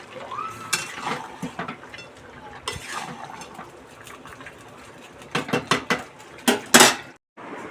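Potatoes stirred and fried in a small kadai (wok) at home, with a metal spatula clanking and scraping irregularly against the pan and a cluster of sharper, louder clatters near the end, with no voices.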